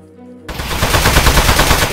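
Rapid gunfire against metal in the video game Aperture Desk Job, a dense, loud, continuous burst that starts abruptly after a moment of quiet.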